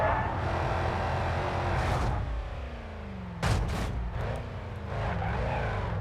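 A Mercedes-Benz car with damaged, misaligned rear suspension rolls down a steep downhill track in BeamNG Drive, a steady loud engine and tyre rumble broken by sharp bangs and knocks as the body hits the course.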